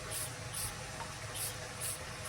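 Black spray paint hisses from a can onto a tumbler in several short, close bursts over a soft, steady background.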